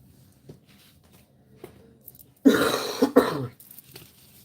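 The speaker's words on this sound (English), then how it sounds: "Apologize for coughing" One person coughs and clears their throat in a quiet room, a sharp burst of two or three close coughs in the middle of otherwise near silence with faint handling noises.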